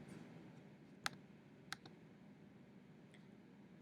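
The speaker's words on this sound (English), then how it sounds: "And I go ahead and type that in on my calculator." Keys pressed on a calculator: a few faint, sparse clicks spaced irregularly over a quiet background, one quick double press among them.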